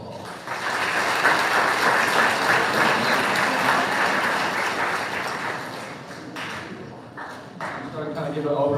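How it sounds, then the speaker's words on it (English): Audience applause for a high school JV team, a steady crowd clapping that holds loud for several seconds, then thins out and dips, with a voice starting to talk near the end. "So let's give these guys a round of applause."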